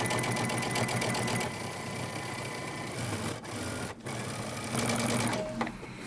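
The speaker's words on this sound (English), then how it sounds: "I'm going to understitch on my lining side, making sure that I catch my seam allowance underneath." A domestic sewing machine understitches the lining of a Simplicity 8611 romper, running in a steady fast whir that changes pace and briefly pauses a couple of times, with no talking.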